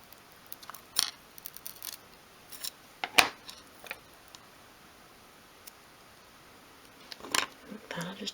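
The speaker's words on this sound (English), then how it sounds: "take hold of the bristles nice and firmly and cut along as far as you need to" Scissors cutting through brush bristles for a 1/12th scale model garden shed, with a few crisp, close snips spread out, the sharpest near the middle, with faint handling ticks between.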